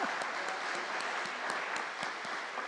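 A church congregation applauds a long-serving usher, a steady, dense wash of clapping from many hands that holds evenly throughout, moderately distant, with no talking over it.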